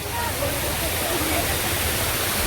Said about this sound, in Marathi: त्यांच्या इकडचा धबधबा छोटासा